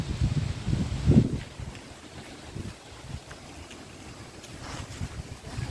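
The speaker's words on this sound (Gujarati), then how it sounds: "બહુ ઠંડી પડે છે આજે પવન ઘણો બધો છે" Gusty wind buffets the microphone in low rumbling bursts beside coconut trees at a cow shelter, strongest early on, then settles into a steady blustery roar.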